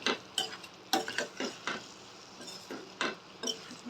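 A spoon stirs an egg and ridge gourd stir-fry in a pan, making irregular scraping strokes and light clinks, close and fairly quiet, with short pauses between strokes and no voices.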